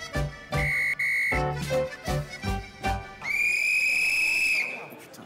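A shrill whistle on a French TV talk-show set sounds in several short, sharp blasts, then one longer sustained blast, loud and close.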